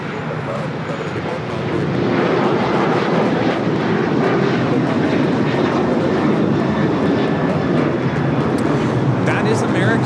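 An American Airlines Boeing 737-800 takes off at LAX bound for Raleigh-Durham, a loud, close, continuous jet engine roar that swells after the first couple of seconds and holds steady, with voices talking beneath it.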